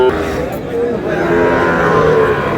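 Sahiwal bulls, calves and cattle at a busy livestock market, a low drawn-out lowing from a nearby animal over crowd murmur and indistinct talk.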